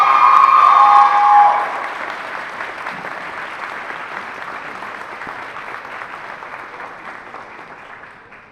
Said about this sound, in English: give these young men and young women a round of applause